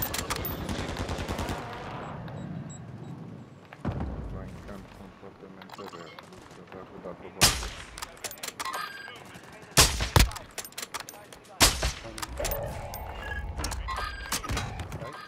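Gunfire from a shooter video game, with bursts of automatic fire and single sharp shots echoing at varying distances, some loud and close, mixed with a player talking over the action.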